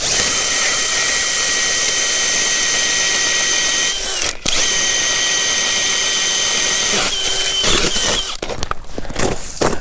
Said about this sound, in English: get some holes drilled and get this all on camera